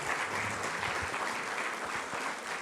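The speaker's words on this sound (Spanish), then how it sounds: "Dele una ofrenda de palmas a nuestro Padre eterno." A church congregation claps steadily throughout, a dense, even wash of applause with no pauses and no voices over it.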